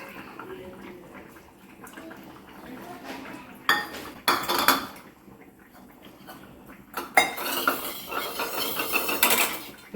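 A pot of dry prawn, brinjal and drumstick kuzhambu being stirred, with a ladle scraping and clinking against the pot in irregular bursts, loud and close, and no talking.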